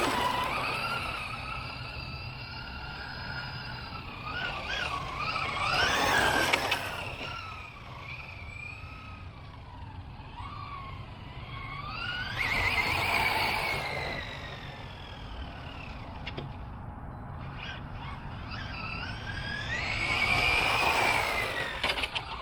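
Traxxas Maverick Quantum R RC truck driving hard, its small motor whining in faint surging bursts with tire scrub and skids, distant and fairly quiet.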